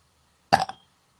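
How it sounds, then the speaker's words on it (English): A single short, loud human burp bursts out alone, followed by a tiny faint sound a moment later. "Hold on, I got a burp."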